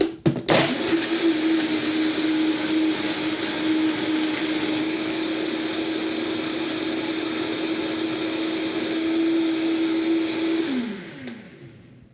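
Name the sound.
blender blending hemp seeds into hemp milk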